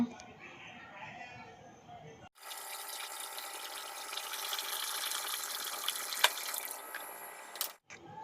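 Tap water runs in a kitchen sink while rice is rinsed, a steady close gush that starts abruptly, carries on for about five seconds with small splashes, and then cuts off.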